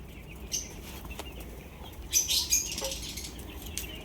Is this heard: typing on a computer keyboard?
no